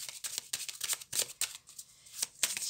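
Tarot cards are shuffled and flicked in a quick run of crisp, papery riffles and slaps, close up and soft, with brief pauses between the bursts.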